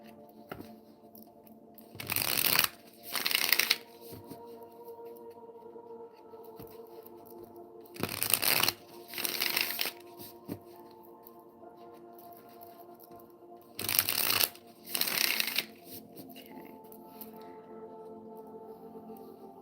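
Tarot cards get shuffled and drawn from the deck in three separate clusters, each a pair of brisk papery riffles and slaps, with quiet pauses between them.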